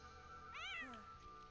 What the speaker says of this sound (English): He's a very silly cat.